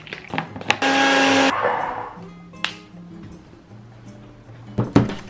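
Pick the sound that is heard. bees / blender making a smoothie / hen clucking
blender making a smoothie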